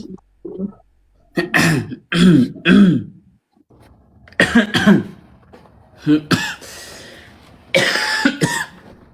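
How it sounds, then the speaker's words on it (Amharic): Repeated harsh coughing and throat clearing in bursts, several separate fits spread across the span, close and fairly loud with short pauses between. "ሰለቸኝ ማሳል ምንድን ነው አይቆም እንዴ?"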